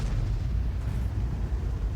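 Deep booming roar of a Conqueror Gun Carriage artillery shot in a tank video game, a heavy low rumble filling the whole moment without a sharp attack, loud and unbroken, with no talk.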